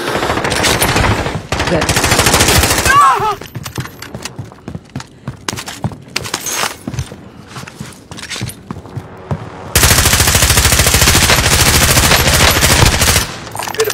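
Automatic gunfire in Call of Duty: Warzone rattles loudly in long rapid bursts, with a quieter stretch of scattered shots and footsteps in between, and a voice briefly speaks.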